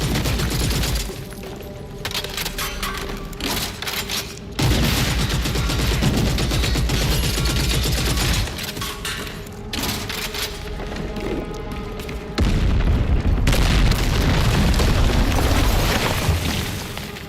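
Heavy gunfire and booming explosions from the video game Gears of War: E-Day crash in loud, dense bursts, with sustained rapid fire broken by sudden cuts between intense action segments.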